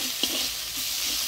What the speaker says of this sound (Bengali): হলুদ লবণ দিয়ে নাড়াচাড়া করে নিলাম